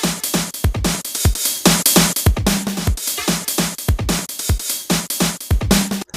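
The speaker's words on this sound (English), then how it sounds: "that's the sound of sidechain compression right there" A drum loop built in Battery 4, heavily sidechain-compressed, pumps in a steady fast rhythm: punchy kicks and bright hits swell and duck repeatedly, loud and upfront with no voices.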